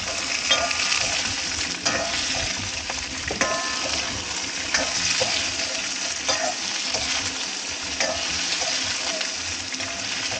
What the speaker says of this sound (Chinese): 肉已经爆炒好了，